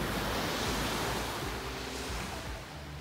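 Steady wash of ocean waves breaking on a beach, a continuous broadband rush with gentle surges, no voices.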